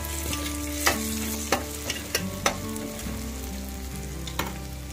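Chopped onions fry in a pan with tomatoes tipped in for a South Indian drumstick masala, giving a steady close sizzle broken by a few sharp clinks and stirring knocks.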